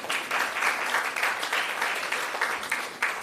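A health research conference audience gives a steady, loud round of applause, dense overlapping clapping that holds at an even level throughout with no talk.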